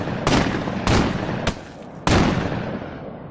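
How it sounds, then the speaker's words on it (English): A shotgun loaded with flechette rounds fires in the video game Contractors Exfilzone, four loud booming shots spaced under a second apart, each trailing off into a short echo, with no talking. "Let me shoot at this guy over here."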